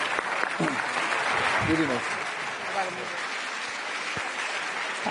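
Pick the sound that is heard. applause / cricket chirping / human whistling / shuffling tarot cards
applause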